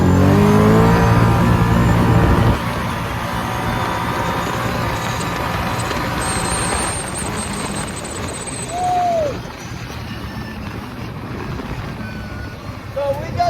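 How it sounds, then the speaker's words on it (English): A 2022 Kawasaki Brute Force 750 ATV engine roars at full throttle close by, then settles into a steady drone as it moves off, with a brief whistle-like tone midway. "So I'll try to open her up and show you guys what it sounds like."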